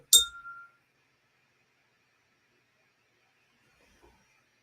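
An Ohm tuning fork struck once on a piece of rubber gives a bright metallic ring that fades within a second, leaving near silence with only a faint tap near the end.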